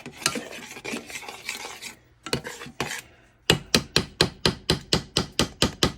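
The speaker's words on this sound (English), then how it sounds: "Going to mix all them spices up in that tomato sauce" A mixing spoon stirs spices into tomato sauce in a bowl, first irregular scraping and rubbing, then a brisk run of about a dozen evenly spaced taps and scrapes, close and loud.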